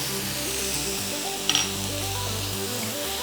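Onions fry in hot oil with curry leaves for a garlic chicken dish, making a steady, even sizzle close by, with one brief utensil clink midway.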